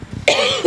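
A single sharp cough comes close to the microphone outdoors at a retriever club hunt test, preceded by faint low murmuring.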